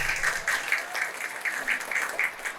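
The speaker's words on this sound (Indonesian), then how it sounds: "Tepuk tangan untuk beliau, kepala sekolah" An audience at a vocational school graduation ceremony claps for the school principal, a moderate burst of hand clapping heard somewhat distant in a large hall, with rhythmic swells and no speech.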